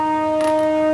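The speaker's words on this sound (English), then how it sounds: "Passover, the last day of Passover is beginning now, and that's the siren indicating it." A siren wails steadily in Jerusalem to mark the last day of Passover, a sustained tonal blare with a brief rising flare partway through, loud and unbroken across the moment.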